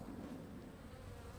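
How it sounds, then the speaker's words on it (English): Honey bees buzz steadily around an open hive during a beekeeping inspection, a continuous, fairly faint insect drone with low wind rumble and no talk. "Okay, our bees look pretty calm."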